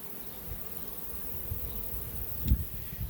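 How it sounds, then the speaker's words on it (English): A honey bee swarm hanging beneath a hive colony gives off a dense, continuous buzzing drone, steady and fairly close, with a brief louder swell near the end. "the swarm's underneath that colony, and it came from this box"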